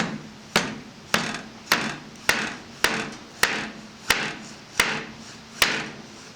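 A hammer taps the key rail pins of a 130-year-old piano in about ten sharp, evenly spaced strikes, each ringing briefly and standing alone close by.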